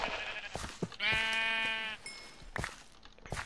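Sheep in the video game Minecraft bleat in short, clear, close cries, one long wavering bleat in the middle and briefer calls around it, with light scattered game noises and no talk.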